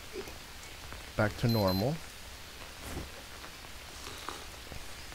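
Rain falls steadily in the video game Green Hell, a soft, even hiss running beneath a brief stretch of talking, faint and continuous throughout.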